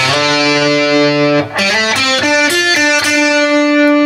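A distorted electric guitar plays a sustained, singing lead line with slides and bends between notes, loud and continuous throughout.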